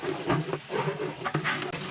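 Hot cooking oil, 2.5 litres poured into a large pot for a big batch of rice cooked for Ashura, hisses and sizzles steadily with soft crackles, close and fairly loud.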